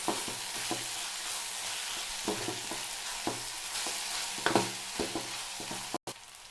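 Chopped vegetables roast in a hot pan for egg rice, giving a steady close sizzle broken by repeated scraping and tapping strokes of a spatula against the pan, with no talk.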